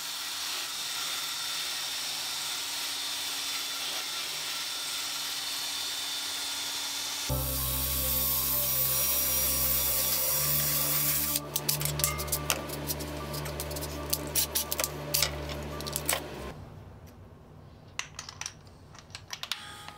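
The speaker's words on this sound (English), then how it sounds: "It gets down in the gullets and cleans out the gullets and takes all the rust out." A power-driven nylon fiber brush scrubs rust out of the gullets of a pruning saw plate, a steady whirring grind that changes pitch midway and then breaks into rough scraping bursts before cutting off.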